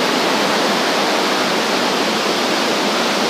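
Water crashes down a monsoon waterfall at Amboli in a steady, loud, broadband rush heard up close, unbroken and with no one speaking.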